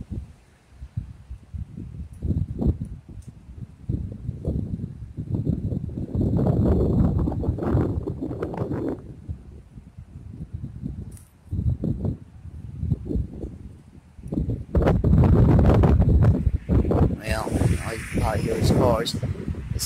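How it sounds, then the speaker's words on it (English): Strong gusting wind during a severe storm under a tornado watch, roaring in broad surges that swell and fade over about twenty seconds, buffeting the microphone and rustling nearby, with a louder burst near the end. "let's see if y'all can hear this wind"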